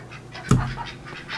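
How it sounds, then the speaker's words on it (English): A single loud duck quack rings out close by inside a dim barn or coop, followed by softer quacks and bird calls in the background. "Hello, ducks."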